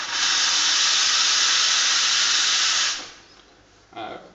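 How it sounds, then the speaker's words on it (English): Giotto espresso machine steam wand purging excess steam, a loud, close, steady hiss for about three seconds that cuts off, followed by a brief softer puff near the end. "get rid of any excess steam"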